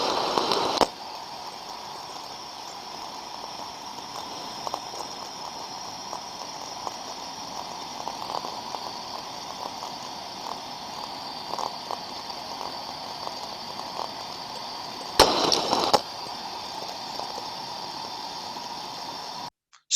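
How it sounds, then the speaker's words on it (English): Thermodynamic disc steam trap captured through an ultrasound detector: a steady hissing rush throughout, broken by two short, louder bursts near the start and about three quarters of the way in as the disc snaps open and shut. "So this was a recording, first of all, of a thermodynamic disc trap,"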